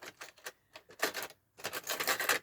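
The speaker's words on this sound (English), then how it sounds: "I'm going to change my foot for a zipper foot." Small plastic and metal clicks and taps come from a sewing machine as its presser foot is swapped for a zipper foot, a close, irregular run of short snaps and rattles in a quiet room.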